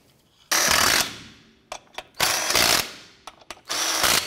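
Loud pneumatic impact wrench spinning lug nuts onto a rear wheel of a 1993-1997 Ford Ranger during a brake job: three sustained rattling bursts with short clicks and clanks between them, close up and without speech.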